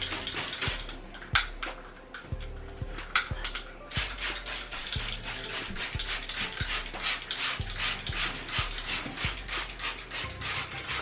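A new plastic spray bottle sprays blue vinegar cleaner onto a bathtub in quick, repeated trigger pulls, a close series of crisp clicks and short hissing bursts in an uneven rhythm.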